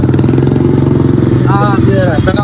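A loud Royal Enfield Bullet motorcycle idles with no exhaust fitted, a harsh, raw, unmuffled rumble, close by, with a brief rising whine partway through.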